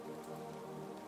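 Soft rain falls steadily on a surface as a continuous gentle hiss, blended with a faint tonal hum underneath.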